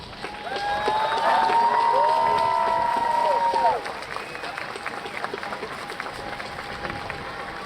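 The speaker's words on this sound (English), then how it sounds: "I would like to ask our students to stand up and applaud all of our family" A commencement audience of students and guests applauds, a broad dense wash of clapping with a tonal whistle or cheer on top, loud for several seconds and then settling into a lower, steady crowd murmur.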